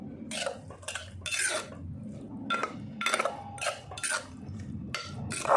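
A utensil scoops boiled food out of a cooking pot while making an eggplant chili dip, giving a few irregular metallic clinks and scrapes at close range.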